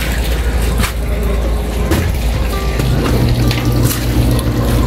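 Water runs steadily at a damaged hut under repair, a loud continuous rushing wash filling the whole clip without pause, close by and with no voices.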